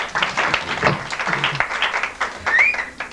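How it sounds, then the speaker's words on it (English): Audience applause for a performer at an orchid show, a burst of clapping with scattered voices and a short whistle near the end. "Let's have a big round of applause for Chester."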